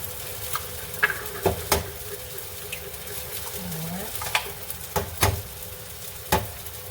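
Eggs go into a pan of frying eggplant with a low, steady sizzle, punctuated by sharp taps and clicks of shells cracking and utensils striking the pan edge, close and fairly quiet.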